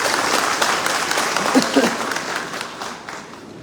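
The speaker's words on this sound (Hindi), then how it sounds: "तो अगर संगम बन रहा है तो जोरदार ताली तो होनी चाहिए।" An audience at a lawyers' conference applauds together, a steady wash of clapping that stays fairly loud for a few seconds, then thins out and fades near the end.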